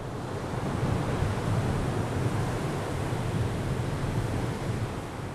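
Ocean waves break and wash up a sandy beach beside a concrete pier, a steady broad rush of surf with wind noise, fairly loud and continuous with no voices.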